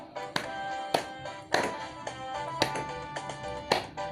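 Hands clap along to a children's Sunday school song in a steady, evenly spaced rhythm of sharp, fairly close claps over soft tonal music.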